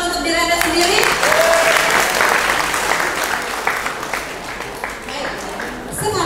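An audience at a seminar claps for themselves, a full burst of applause that swells early and then gradually tapers, with a voice speaking over the start.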